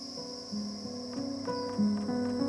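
Crickets at a breeding farm producing a steady high-pitched chirping drone, with a constant shrill tone throughout and some tonal background sounds layered beneath, no voices present.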